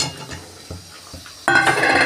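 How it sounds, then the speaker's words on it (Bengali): Fried fish and bori are stirred into a potato curry in a pan, with a few soft scrapes and clinks of a spoon, followed by a louder steady sizzle and bubbling. "দিয়ে ভালো করে নেড়ে দিচ্ছি।"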